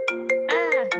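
A phone ringtone plays during an online college fair meeting: a loud, close melodic electronic tune of several quick tones, alone with no talk over it.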